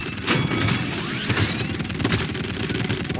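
Rapid gunfire from a shooter in the hero game Paladins, a dense run of shots with sharp bursts and booms that keeps going with no break, loud and close.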